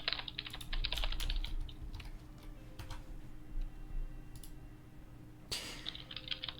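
Fingers type on a computer keyboard in irregular bursts of close, crisp key clicks with short pauses between runs, and no talking.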